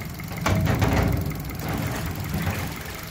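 A Yamaha F60 EFI outboard motor revs up from idle, a loud steady low engine drone that swells briefly then settles into a continuous run, close by with no talk.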